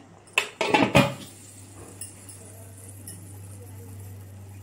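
A lid clatters onto a pot of mutton biryani in a quick burst of metallic clinks and knocks, followed by a soft tap or two over a steady low hum.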